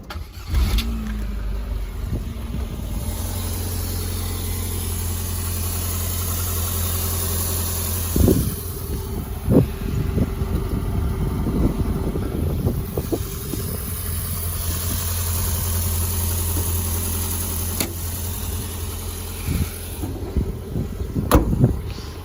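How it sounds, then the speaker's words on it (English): An MG MGF's K-series engine idles smoothly and quietly for a long stretch, a steady low hum close by, broken by a few clunks and handling knocks but no speech. "And that's the MGF running. It's actually really smooth and quiet."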